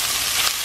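Shrimp and vegetables sizzle steadily in a hot pan, a close, even hiss of frying with no voices over it.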